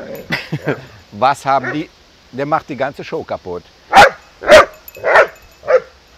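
Jem the dog lets out four sharp, loud barks in a row at the end, after a stretch of someone talking.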